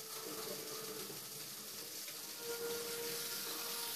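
A faucet runs in a steady, faint stream of tap water, unbroken from start to finish with no other sounds.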